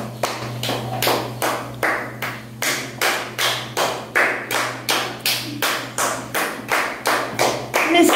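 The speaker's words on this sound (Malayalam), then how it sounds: "കൈയടിക്കും." Several people clap in a steady, even rhythm of about two claps per second during a cup game, sharp and close, with a low steady hum beneath and no talking.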